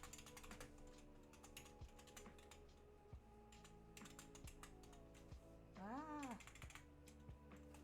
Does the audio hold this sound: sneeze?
no